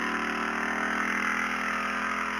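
A motorcycle engine running at a steady idle-like hum, close and continuous, with no talk over it.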